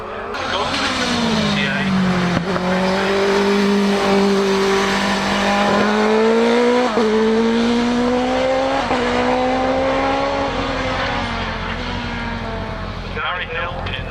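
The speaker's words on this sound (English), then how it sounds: "Gary Hill in the Space Radar S2000M, sweeping around the final corner." A Space Radar S2000M race car sweeps around the final corner at the Harewood hillclimb, its engine droning loudly and steadily with gear changes and rising revs, while a commentator talks over it.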